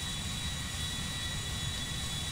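Large airliner's jet engines roar steadily during a landing in GTA 5, a loud, continuous broadband rumble with no talk over it.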